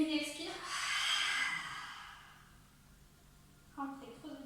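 A long, breathy exhale during a yoga breathing exercise using the De Gasquet method, drawn out over about a second and a half, with a brief voice before and after it.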